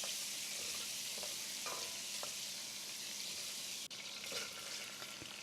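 Whole spices sizzle in hot oil in a pot over a medium flame, a steady close hiss with occasional soft scraping and stirring clicks.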